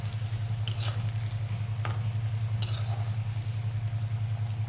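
Bati dough balls for Rajasthani dal bati fry in hot oil over a high gas flame, giving a steady close sizzle with a few sharp crackles and pops and no talking.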